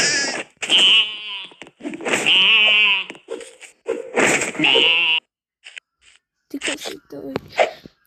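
Sheep in a Minecraft or Roblox game bleat in several loud, wavering cries with pauses between them, and a person talks in between.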